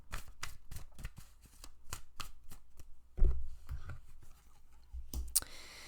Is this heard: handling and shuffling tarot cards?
yes